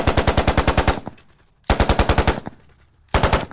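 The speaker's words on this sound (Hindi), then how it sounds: "आर्यन तुरंत अपनी बंदूक निकाल के ज़ॉम्बी को मार गिरता है" Cartoon gunfire as a gun shoots a zombie: three loud bursts of rapid, evenly spaced shots, each about a second long, separated by short quiet gaps with no talking.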